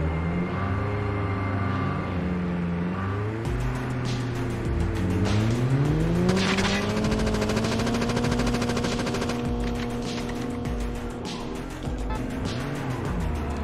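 Engine of a car in Call of Duty Mobile revs and shifts pitch as it drives, loud and near throughout, with bursts of gunfire and occasional tire squeal layered over it.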